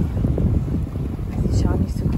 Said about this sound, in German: Es sind riesige Wellen und es schaukelt.